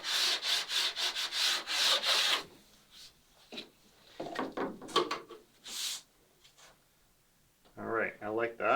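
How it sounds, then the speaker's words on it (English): A sanding block scrubs a wooden boat stem of a Catalina Wherry in rapid back-and-forth strokes, close and fairly loud, then pauses before a few more rough rubbing passes near the end. "I'll just give this a little scrub with a sanding block again, just to make sure it's ready for bonding."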